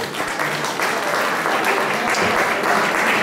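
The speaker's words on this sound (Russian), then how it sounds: "Аплодисменты почему-то стихли." Concert audience applause, a dense, steady wash of many hands clapping that fills the whole stretch, loud and close with no break.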